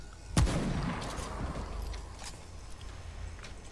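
A sharp gunshot crack rings out near the start, followed by fainter scattered shots and rumble in the video game Remnant: From the Ashes.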